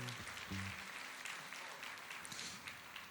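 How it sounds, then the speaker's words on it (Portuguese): Church congregation applauding during a worship service, a broad steady clapping that fills the clip at moderate level with a low murmur of voices mixed in. "Vamos aplaudir ao Senhor."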